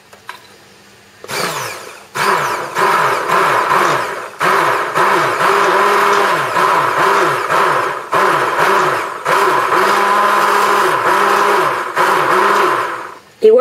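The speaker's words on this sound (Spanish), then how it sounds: "Y ahora con la batidora" A hand blender whirs in repeated bursts as it mixes melted soap base for homemade soaps, the motor rising and falling in pitch with short pauses between runs, loud and close with no talking.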